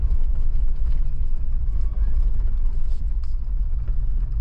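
A Jeep's six-cylinder engine drones loud and low on an off-road trail in West Georgia, a steady rumbling roar with rattles from the vehicle.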